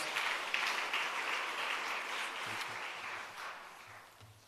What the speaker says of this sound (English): Can we give him a round of applause as he comes?